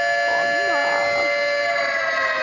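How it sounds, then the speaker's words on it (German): An alarm blares with a steady, loud electronic tone, held throughout while an excited voice shouts over it. "Alarm!"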